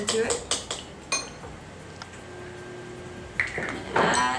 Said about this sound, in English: add some nutmeg to it, and stir it up